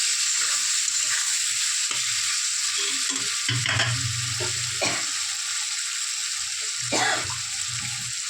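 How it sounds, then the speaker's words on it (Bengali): Masala with cumin powder frying in a pan for a Bhola fish and potato curry, a loud continuous sizzle with intermittent scraping stir strokes and low clanks of the spatula. "হাফ চামচ জিরা গুঁড়ো, মশলাটা ভালো করে নেড়ে চেড়ে নিলাম।"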